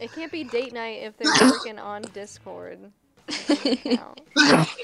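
A single sharp sneeze from a person during a live-streamed Splatoon 2 gaming session, loud and close, surrounded by casual conversation among several people.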